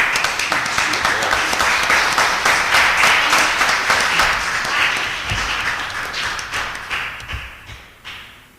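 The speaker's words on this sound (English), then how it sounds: "Let's give these guys a big round of applause" A live crowd breaks into a big round of applause at a local event, loud clapping at first, then thinning and fading toward the end with a few scattered claps and thumps.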